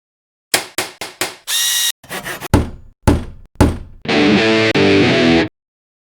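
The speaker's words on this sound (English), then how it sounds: "I bring out the hammer" Sharp hammer blows strike one after another in short runs, alternating with loud, steady bursts of a buzzing power tool, all close by, while building a tiny house bathroom.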